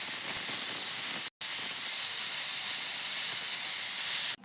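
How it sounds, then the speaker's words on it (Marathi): A pressure cooker on high gas cooking pav bhaji lets off its whistle, a loud, sustained hiss of escaping steam that cuts out briefly once and again at the very end. "कुकरचे झाकण लावून आपण 5 शिट्ट्या काढून घेऊ"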